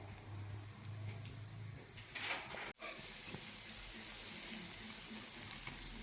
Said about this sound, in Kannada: ಅದಕ್ಕೋಸ್ಕರ ನಾನು ಸ್ಟವ್ನಲ್ಲಿ ಹುರ್ಕೊಳ್ತಾ ಇದ್ದೀನಿ